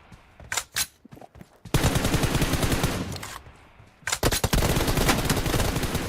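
Automatic weapon fire from the mobile shooter BGMI: a few scattered shots, then long loud sustained bursts of rapid gunfire separated by a brief pause.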